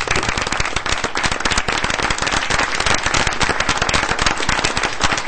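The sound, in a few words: round of applause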